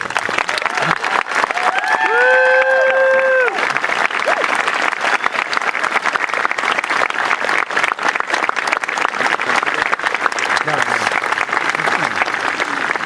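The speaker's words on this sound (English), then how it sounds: "I'd like all the scholarship recipients to stand for a well-deserved round of applause" Audience applause for scholarship recipients at the Pentucket Regional High School graduation ceremony: loud, steady clapping from a large crowd throughout, with brief whistles near the start.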